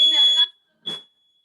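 A reflective alarm is tested indoors, giving a loud, high, piercing electronic tone that sounds twice: a longer burst, then a short one after a brief gap, with a voice overlapping.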